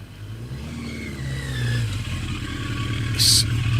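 A Yamaha Maxim XJ650 motorcycle engine runs steadily nearby with a low, throbbing idle that swells slightly in the second half, with a brief high-pitched hiss near the end.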